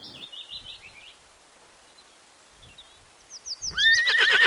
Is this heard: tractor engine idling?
no